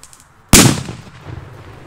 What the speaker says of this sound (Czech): Před výbuchem Crackling a titanová exploze.